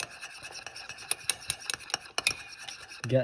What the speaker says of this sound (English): So we're just stirring it up.